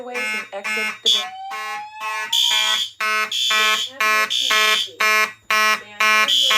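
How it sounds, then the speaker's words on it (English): A building fire alarm system sounds during a test, a loud repeating electronic horn tone pulsing in steady bursts close by, with a short rising sweep early on. "There has been a fire alarm reported in the building."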